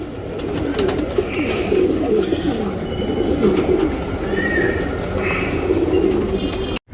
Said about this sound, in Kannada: ಗುಲ್ದಾರ್ ಅಕ್ಕಿ ಇದು